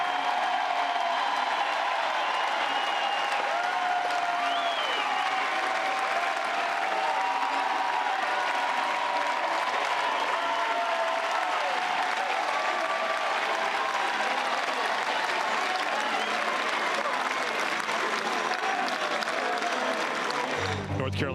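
A Chapel Hill crowd at a college baseball game gives a sustained, dense ovation of applause and cheering that stays loud and steady throughout, with faint voices mixed in.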